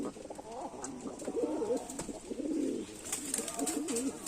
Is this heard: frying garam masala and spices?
no